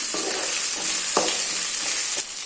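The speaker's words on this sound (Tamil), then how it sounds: "ஒரு பச்சை மிளகாய் ஒரு தக்காளி நைஸாக கட் பண்ணது பச்சை மிளகாய் கீறி போட்டுக்கணும் இது எல்லாத்தையும் நல்லா வதக்கிடலாம்" Chopped green chili and tomato sauté in a pan with a steady, hissing sizzle, broken by a few soft scraping stirs. The sound is close and constant, with no voices.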